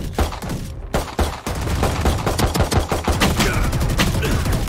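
Dense, rapid gunfire from an online shooter game fills the clip, a near-continuous volley of sharp shots with a brief gap after the first second, loud and close with no talk over it.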